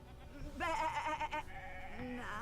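A sheep in the video game Divinity: Original Sin II bleats with a wavering, nasal cry over a steady background hum, followed by a second, lower bleat near the end.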